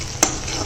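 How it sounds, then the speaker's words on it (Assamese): Onion and a bay leaf frying in hot mustard oil give a steady close sizzle, with one sharp clink of utensil against pan partway through the short burst. "তেলত পিঁয়াজ দি তেজপাত এখিলা দি পেলাই ভাজি আছোঁ"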